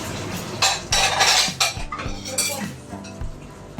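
Dishes and cutlery clink and scrape repeatedly in a sink, close and fairly loud, with water splashing and a voice faintly in the background.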